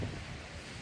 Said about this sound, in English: we've got the waves splashing